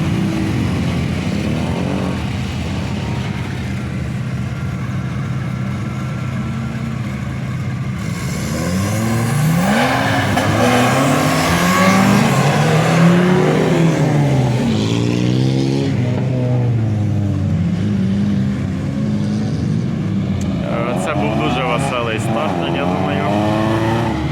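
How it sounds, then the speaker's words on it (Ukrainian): Several quad bikes start a race, their engines revving and climbing together in overlapping, wavering tones that swell louder midway, with people talking over the noise at a motorsport event. "перше стартують квадрики"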